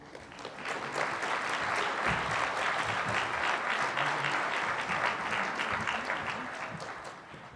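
Sustained applause from an audience at a regional science and engineering fair awards ceremony, dense steady clapping that swells quickly, holds for several seconds and slowly tapers off.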